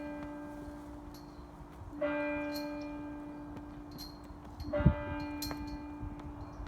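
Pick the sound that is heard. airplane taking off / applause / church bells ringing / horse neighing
church bells ringing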